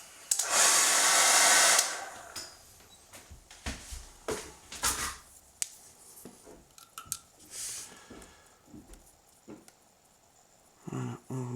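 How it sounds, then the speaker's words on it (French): A hair dryer blows loudly for about two seconds to dry a painted Forgeworld Gorgon miniature, followed by scattered close clicks, taps and handling noises. "Voilà, donc sèche-cheveux."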